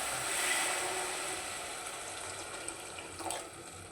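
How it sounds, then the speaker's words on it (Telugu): A glass of water poured into a drumstick and tomato curry in a pot, a steady close hiss and splash of running liquid that slowly fades, with a few faint clinks near the end. "ఇప్పుడు కొన్ని వాటర్ పోసుకుందాం, 1 గ్లాస్ అన్ని"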